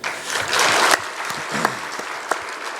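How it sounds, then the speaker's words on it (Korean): Church congregation applauding during an afternoon worship service, a loud burst of clapping that swells then tapers into scattered individual claps and a few sharp final smacks. "우리 한번 다시 박수 한번 쳐주시겠습니다"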